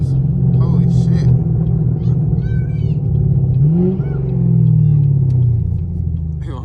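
A Chevrolet Camaro SS on the street gives off a deep, loud exhaust rumble that swells into a brief rev and then settles, with people talking and reacting over it.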